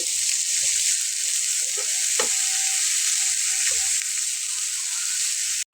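Chopped onion and a large potato frying in a pan and being stirred, a steady loud sizzle close by with occasional soft scraping knocks, no voices.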